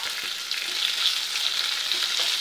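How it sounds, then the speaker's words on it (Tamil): Paneer masala gravy ingredients with cashews sautéing in a pan, a close continuous sizzle with faint scraping stirs underneath, no talking. "இது கொஞ்சம் நல்லா வதங்கட்டுங்க."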